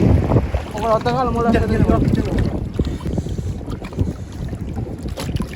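A boat moving across open sea water near Pigeon Island, Nilaveli, with steady wind and water noise throughout; a voice calls out briefly near the start before the sound continues alone.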